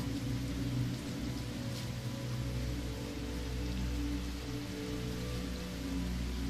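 Rain patters on an umbrella overhead as a constant soft, dense wash of drops with a low rumbling undertone, quiet and even with no voices.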